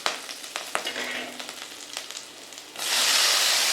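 Ingredients sizzle steadily as they sauté in a pan for tomato rice, with stirring clicks and scrapes, then a sharper, louder hiss near the end.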